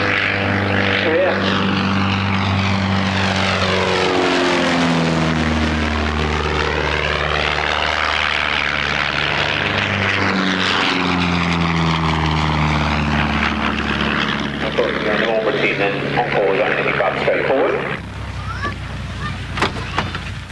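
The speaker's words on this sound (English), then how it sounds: "Philip Meeson, having landed for a brief look around the collection, departs for his next display" Propeller aircraft at an air display, departing after a brief landing, its loud engine drone sweeping up and down in pitch as it taxis and passes, harmonics shifting, then easing away near the end.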